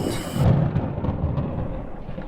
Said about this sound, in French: on a pris l'orage juste à côté de nous